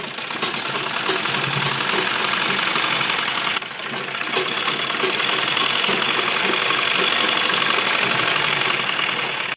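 A sewing machine stitches a kurti seam in one loud, continuous run during an alteration, its motor whirring steadily with a brief dip partway through.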